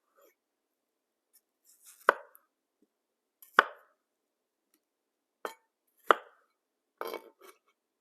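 A kitchen knife cuts food into 1-inch cubes, with about six crisp, separate chops striking a cutting board at uneven intervals, close and isolated against near silence.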